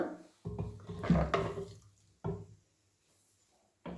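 Buttermilk pours and splashes into a container for spiced masala buttermilk, a few short close liquid bursts separated by quiet gaps, with no talk.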